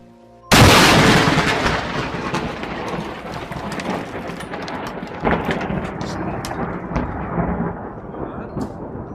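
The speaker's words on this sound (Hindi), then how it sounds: "अचानक वहां जोरदार कड़क के साथ बिजली गिरी" A sudden loud thunderclap cracks in, then rumbles and rolls on for several seconds before slowly fading.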